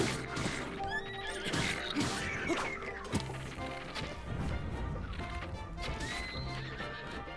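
A horse in the video game The Legend of Zelda: Breath of the Wild whinnies several times over galloping clip-clop hooves and sharp combat whacks, with no talk.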